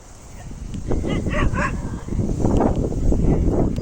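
Dogs barking outdoors during a walk, a few sharp yips and barks near the start followed by a busier stretch of barking and whimpering, fairly close, with some talk mixed in.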